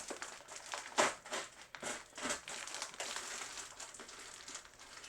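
Crinkly plastic packaging around a toy blaster being unwrapped, close crackling and crumpling in irregular bursts, loud near the start and then steady rustling.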